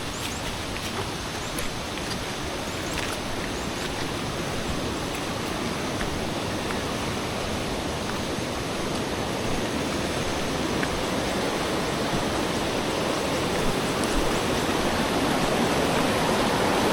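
Strong current rushing near Ditumabo Mother Falls in Aurora, a loud, close, unbroken roar of churning water that holds steady throughout with no voices.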